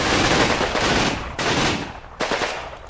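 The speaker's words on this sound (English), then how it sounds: "That must be the rest of that machine gun team." Machine gun fire in the war game Combat Mission, loud close bursts of rapid automatic shots split by two brief breaks across a few seconds.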